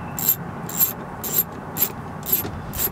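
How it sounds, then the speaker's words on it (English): Screw being turned out of a Porsche 997/987 carpet pad with a ratcheting tool: six evenly spaced, bright clicking bursts roughly half a second apart, close and fairly clear over a low background hum, no talking. "you do need to unscrew it all the way"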